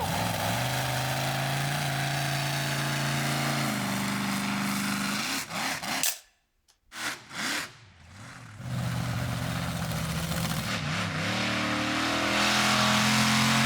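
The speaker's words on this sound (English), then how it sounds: "Now, let's go see some monster trucks." Monster truck engines at a racecourse event rev loud and close with rising and falling pitch, cut briefly by a near-silent gap before the heavy droning returns.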